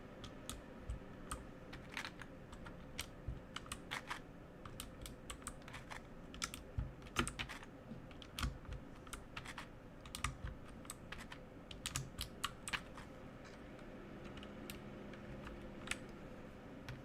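Typing on a GK61 hot-swappable keyboard fitted with heavier double-shot PBT keycaps: a steady run of crisp, close keystroke clicks in irregular bursts with brief pauses, no voices.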